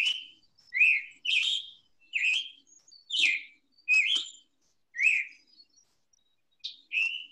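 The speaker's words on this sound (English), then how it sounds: "chick-burr, that's the scarlet tanager." A scarlet tanager repeats its two-part chick-burr call, about eight short, clear chirps in a steady series with brief gaps, heard alone and fairly close.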